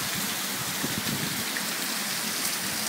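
Heavy rain pours down in a dense, continuous hiss, loud and close, drumming steadily on surfaces without a break.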